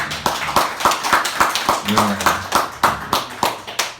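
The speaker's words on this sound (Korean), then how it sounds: "박수 한번 더 크게 주십시오" Audience at a Korean political gathering on the impeachment claps loudly in a quick, steady, rhythmic beat for several seconds, with voices mixed in underneath.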